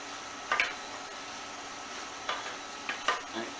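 Butter and flour are stirred together in a pan to cook out a roux, giving a faint soft sizzle with a few light scraping strokes of the utensil.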